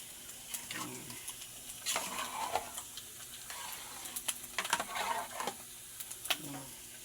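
Egg fries in a pan for rice porridge, a soft sizzle beneath intermittent scraping and tapping of a utensil stirring against the pan, close and fairly quiet, with no speech.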